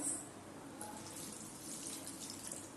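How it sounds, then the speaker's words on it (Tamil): Water pours and splashes into a kadai at a steady, soft trickle while cooking raw plantain fry, fairly quiet and close, with no voices. "தண்ணி வந்து ஊற்றிக்கணும்."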